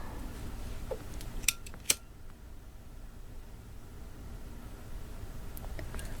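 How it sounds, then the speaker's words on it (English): Scissors snip through ribbon while shaping a small kanzashi petal, giving two sharp, close cuts in quick succession against a quiet room background. "And I cut that off."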